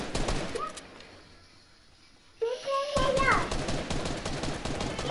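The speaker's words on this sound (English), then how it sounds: "I'll keep shooting." Rapid bursts of video game gunfire during a squad match, dense and loud at the start, then a quiet gap before the shooting resumes with voices talking over it.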